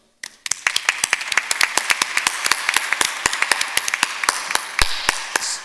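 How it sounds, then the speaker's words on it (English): A small audience at a humanitarian volunteering panel claps for volunteers after a brief silence, with loud, distinct, fairly sparse handclaps from a modest number of people ringing out for several seconds. "Can we applaud them now?"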